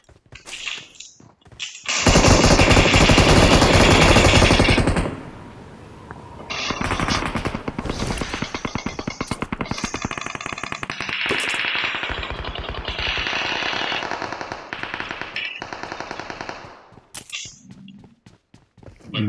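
Automatic gunfire from the video game PUBG rattles in long, rapid, loud bursts, broken by short pauses and scattered single shots over nearly twenty seconds.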